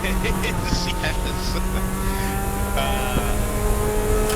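A GTO-class race car engine roars steadily in the distance at Road Atlanta during an endurance race, a throaty drone running throughout with bursts of higher mechanical whine.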